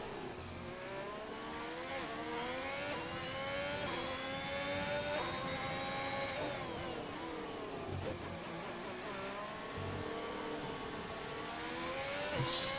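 A race car laps the Singapore street circuit in a racing video game, its engine revving up and down steadily through the gears as it brakes and accelerates, a continuous moderately loud whine without talk.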